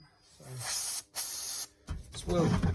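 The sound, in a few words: spraying multi-purpose lubricant into a tool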